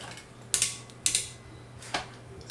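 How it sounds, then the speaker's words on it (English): Die-cast Mazinger Zero toy hip joints ratchet with three quiet, crisp mechanical clicks, two close together and a softer one after, in a quiet room. "so the hips ratchet both ways."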